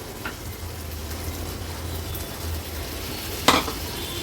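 Tomatoes and cleaned small fish dropped into hot masala for an Agri-Koli style fish curry, a steady sizzle and frying hiss with a sharp clink of a utensil near the end, close and without speech.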